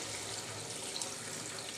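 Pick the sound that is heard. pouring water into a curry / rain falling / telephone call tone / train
pouring water into a curry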